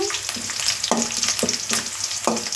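Onions and curry leaves frying in a little oil for capsicum fry, a constant bright sizzle with a few spoon taps and scrapes against the pan as they are stirred.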